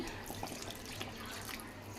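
Water pours and splashes quietly into a pot for a couple of seconds, a soft continuous trickle with small bubbling drips.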